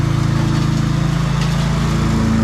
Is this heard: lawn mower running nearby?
yes